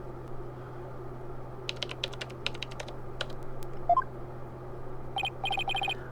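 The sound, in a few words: keyboard typing in Phoenix Wright: Ace Attorney video game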